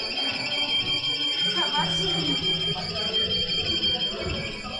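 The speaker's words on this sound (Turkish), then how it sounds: "alarm sesi de fazla geliyor zaten." An alarm sounds steadily in a high, piercing tone that carries through the whole stretch over a noisy, crowded background in an electronics store in France.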